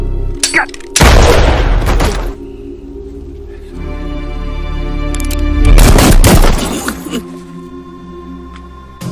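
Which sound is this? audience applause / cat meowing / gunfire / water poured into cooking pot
gunfire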